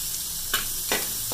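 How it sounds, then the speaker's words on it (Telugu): Cumin, mustard seeds and chopped onions fry in oil in a clay pot, giving a steady low sizzle with two brief louder bursts, like ingredients dropping in or being stirred. "ఇప్పుడు అందులో నేను కాస్త నూనె వేసి ఇలా జీలకర్ర, ఆవాలు, ఉల్లిగడ్డలు ఇలా అన్నీ మట్టి పాత్రలో వేసేసి"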